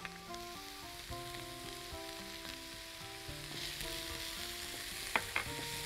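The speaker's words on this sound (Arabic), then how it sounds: "تمام كده نحط الثوم" Garlic sizzles and fries in a pan with a steady, soft crackle over background music, followed by a couple of sharp clinks near the end.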